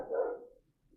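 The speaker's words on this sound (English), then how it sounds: "Oh, for God's sake, now it's the barking." A single dog bark from outside, muffled and moderately faint, fading quickly into quiet.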